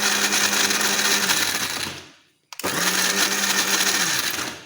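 A mixer grinder grinds grated coconut for barfi in short intervals, a loud close whir that winds down to silence, then starts again at full speed.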